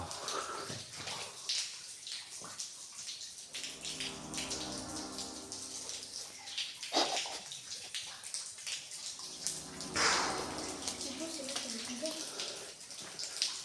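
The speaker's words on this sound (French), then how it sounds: "il y a une rivière souterraine" An underground river flows inside an old abandoned mine, giving a steady, echoing rush of water and dripping throughout, with occasional louder splashes and faint voices in the background.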